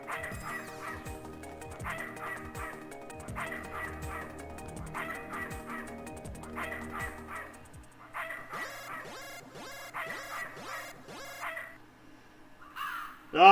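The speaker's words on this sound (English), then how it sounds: "Ah, it's just a crow." A crow caws repeatedly in the video game Snatcher, with harsh, evenly spaced calls that pause and resume, and a sharp sound at the end.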